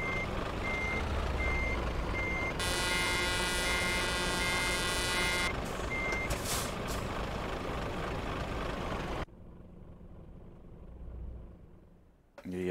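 A truck reversing in Euro Truck Simulator 2 on a ProMods Russian map gives out steady evenly spaced beeps over a low rumbling engine, with a short air-brake-like hiss, before the sound drops to a faint engine hum.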